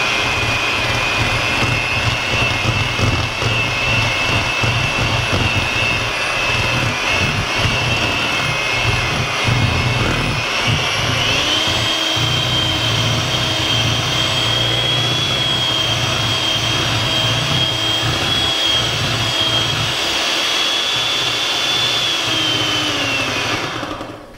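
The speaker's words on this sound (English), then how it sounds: "get your mixer out and beat your softened cream cheese until it's light and fluffy" An electric hand mixer beats softened cream cheese in a bowl for a cold crab dip, giving a loud, steady motor whir that runs without a break and shifts slightly higher in pitch partway through.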